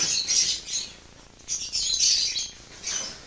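Lutino opaline lovebird squawking close by in sharp, harsh chirping bursts, three rough clusters separated by short pauses, with no voices.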